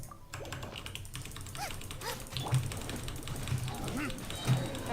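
Quiet computer keyboard clicks patter irregularly during a Genshin Impact gaming session, set under a low background hum with a few soft whimpering, dog-like sounds mixed in.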